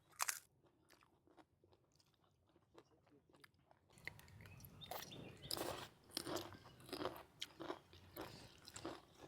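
Crisp crunchy food, such as fried jipang leaves, being bitten and chewed close to the mic, with repeated crackly crunches that start sparse and quiet, then grow louder and denser.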